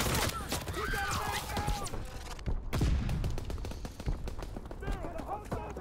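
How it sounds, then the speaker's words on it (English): Suppressive gunfire in a Call of Duty WWII battle, with rapid bursts of shots and explosions crackling steadily throughout under shouted team talk. "Suppressive fire!"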